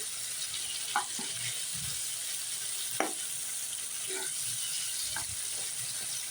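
Spice-coated pabda butterfish sizzling steadily in a hot pan while being stirred and turned, with a few soft utensil clinks against the metal over the constant frying hiss.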